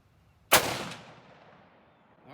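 One sharp, loud crack from a 6.5 Creedmoor bolt-action rifle fired close by, followed by a rolling echo that fades over about two seconds, with no talking.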